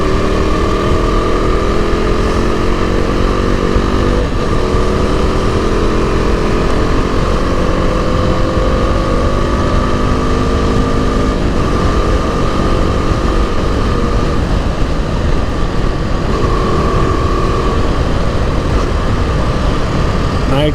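A KTM RC390 motorcycle engine hums steadily from the rider's position while cruising at night through city traffic, with continuous wind and road noise and a constant loud drone throughout.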